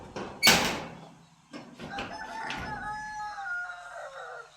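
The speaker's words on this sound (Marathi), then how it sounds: "बघा कोंबड्या." Chickens in a poultry shed cluck and call, a sharp knock or bang near the start followed by drawn-out, wavering hen vocalizations close by, with no talk.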